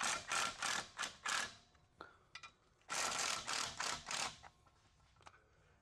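A ratchet loosening the transmission bolts on a 2006 NC Miata: quick bursts of rapid metallic clicking, close and loud, in two groups separated by a short quiet pause with a few faint knocks.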